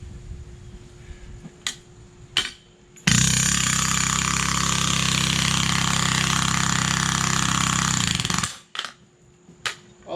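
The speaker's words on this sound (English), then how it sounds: "I'm going to have to use the pneumatic shovel to loosen it up." A pneumatic shovel breaks up rock-hard, compacted ground in a former bamboo garden, a loud, continuous hammering roar lasting about five seconds, framed by a few sharp knocks before and after.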